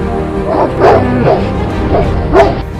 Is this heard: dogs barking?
yes